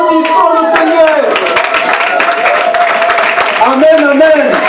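A church congregation claps along rhythmically during a Sunday service, the steady patter running under a loud voice singing and calling out over it.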